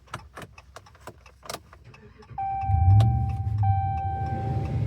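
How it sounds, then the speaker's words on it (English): 2014 Dodge Ram truck started with a newly programmed key: keys jangle and click first, then a chime sounds as the engine cranks and catches into a steady, close idle. "Starts the car."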